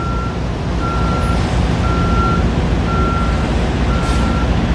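A truck's reversing alarm beeps steadily, five evenly spaced tones, over loud idling diesel engine rumble in a warehouse truck lot where a long line of trucks waits.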